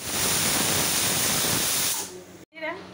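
A pressure cooker on a home stove vents a loud, steady hiss of steam while mutton cooks inside, the rush cutting off abruptly near the end, followed by a brief quiet and faint kitchen sounds.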